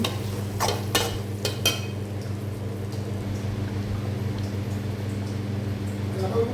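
Tomato rice masala sautés in oil, cooked until the oil separates, with a low steady sizzle and hum and a few sharp clanks and scrapes of stirring early on.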